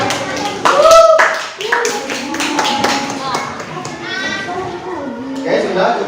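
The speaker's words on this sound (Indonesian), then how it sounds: "tepuk tangan buat kita semua" Sharp, uneven hand claps from a class of children in a school practice lesson, mixed with children's chatter and voices talking over the clapping.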